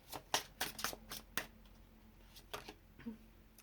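Tarot cards shuffled and drawn from a deck, a series of short crisp papery riffles and flicks close by, several bursts in the first second and a half and a couple more near the end, with quiet pauses between.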